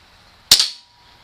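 A single sharp, close crack from a KWC M1911 A1 TAC CO2 blowback BB pistol fired on a table top, with a quick decaying snap of the slide cycling and no talk.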